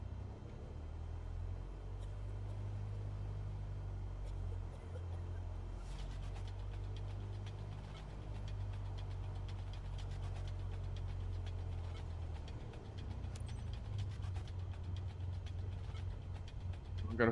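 Cessna engine idling low and steady on the runway in Microsoft Flight Simulator 2024, a continuous deep drone with faint crackle and clicks on top, close and without talk.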